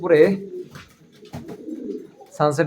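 Racer pigeons on a pigeon farm give soft, throaty coos close by. A person talks briefly at the start and again at the end.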